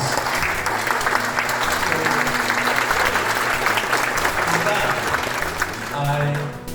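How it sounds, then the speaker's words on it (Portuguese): Audience applause at the São Paulo MSX Summit 2025, dense and steady clapping from a large crowd lasting throughout, with a slight swell near the end. "uma salva de palmas para vocês"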